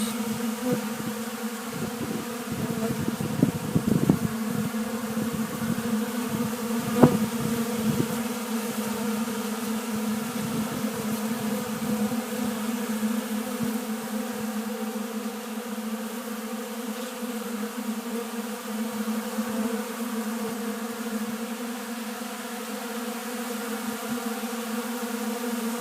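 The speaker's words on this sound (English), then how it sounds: "Feeding the bees at Little Creek Bee Ranch" Honeybees hum from a hive at an Oklahoma apiary in winter, a steady close drone with a constant pitch that lasts the whole stretch, occasional sharper buzzes rising briefly near the start, no talking.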